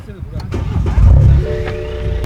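A car engine cranks and catches, rising into a steady idle, with a brief voice and some interior clicks nearby.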